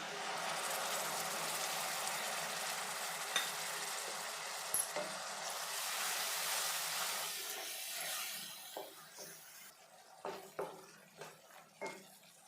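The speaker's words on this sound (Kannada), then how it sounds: "ಈಗ ಟೊಮಾಟೊ ಪ್ಯೂರಿಯನ್ನು ಹಾಕ್ತಾಯಿದ್ದೀನಿ" Tomato puree added to fried onions in a hot pan for a fenugreek-leaf potato curry, a dense hissing sizzle that fades and gives way to scattered stirring scrapes and taps.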